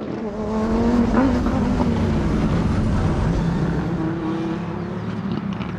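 An Audi Quattro A2 rally car's engine roars loud and close at full throttle. Its harsh, rasping note rises and holds, then eases slightly toward the end, with no talk over it.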